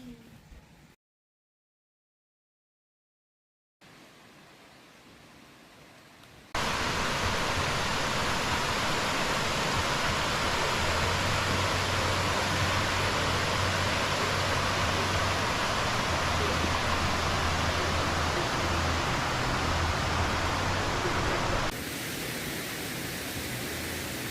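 Tad Kuang Si waterfall near Luang Prabang roars as a loud, steady broadband wash of falling water, close by and continuous, after a brief quieter stretch at the start.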